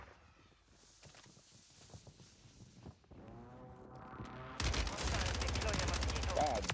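A WSP 9 submachine gun fires in Warzone 3 as a rapid, dense burst of shots, after quieter game sounds and footsteps; the whole mix is faint.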